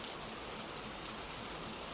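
Rain falls steadily outside a quiet coffee shop, a dense, even patter and hiss with no breaks and no voices.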